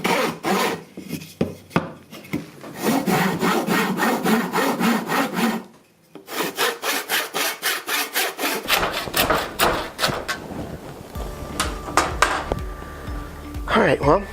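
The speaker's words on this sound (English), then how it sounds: "It's a cross cutting saw, so you use it to kind of cut crossways. Yeah, well, let's try it out on PVC" A handheld crosscut wood saw works through PVC pipe in quick, rasping back-and-forth strokes, close and loud, pausing briefly midway before resuming, with a few words spoken near the end.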